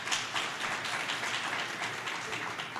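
Audience at a New Jersey governor's food security event applauds, a soft, steady patter of many hands clapping at a distance, fairly quiet and unbroken.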